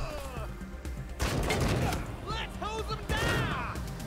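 Turret gunfire in the Wasteland 3 video game, a dense burst of rapid shots, loud and close, with people talking over it and exclaiming in between.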